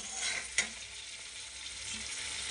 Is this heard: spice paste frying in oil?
yes